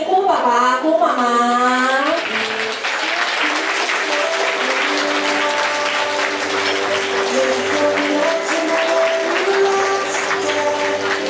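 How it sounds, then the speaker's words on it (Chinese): An announcer's voice opens, then a wedding crowd breaks into sustained, loud applause to welcome the groom's side as they enter, with faint music running underneath. "掌声欢迎姑爸爸、姑妈妈"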